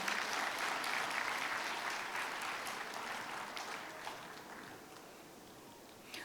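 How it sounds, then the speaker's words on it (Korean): An audience gives sustained applause at a school's centennial ceremony. The steady clapping fades gradually toward the end. "큰 박수로 맞아주시면 감사하겠습니다."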